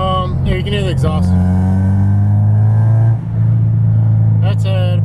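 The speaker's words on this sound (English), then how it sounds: "So cruising around, you can hear the exhaust." An Acura RSX Type S exhaust drones steadily while cruising at about 3,000 RPM, loud and close from inside the car, with someone speaking at the start and end.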